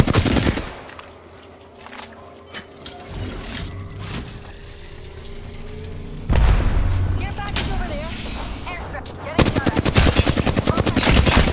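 Apex Legends gunfire comes in bursts of rapid automatic shots and single cracks amid game effects, growing louder toward the end, with a voice talking over parts of it.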